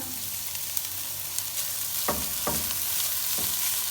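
Vegetables and finely chopped cabbage fry in a pan with a loud, steady sizzle, while a few spatula scrapes and stirring knocks cut through near the end.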